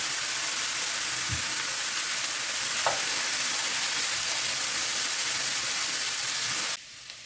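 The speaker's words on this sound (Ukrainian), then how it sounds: "додаю цибулю, я її дрібно порізала, як зазвичай на засмажку маленькими кубиками і обсмажую" Finely diced onion fries in a pan over medium heat, giving a steady close hiss and sizzle with a couple of faint stirring knocks, then the sound cuts off abruptly.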